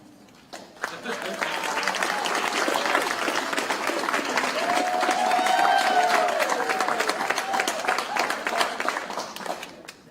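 Audience applause and clapping fill a graduation ceremony for service dogs and their veteran handlers, a steady crowd clapping sustained for about ten seconds, with voices and a whistle-like tone rising through it.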